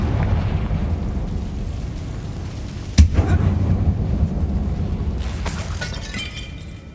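Confringo blasting spell in Hogwarts Legacy, cast inside an abandoned mine: one sharp explosive crack strikes midway through and rumbles on over a steady low game ambience.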